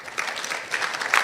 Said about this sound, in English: give yourselves an extra hand of applause